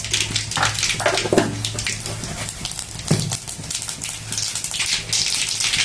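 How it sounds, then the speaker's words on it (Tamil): Mustard seeds hiss and crackle as they sizzle in hot oil in a kadai. The busy frying noise stays continuous and fairly loud from start to finish, with no voices. "கடாய் நல்லா காஞ்சிச்சு எண்ணெய் ஊற்றிக்கலாம் கடுகு போடலாம்"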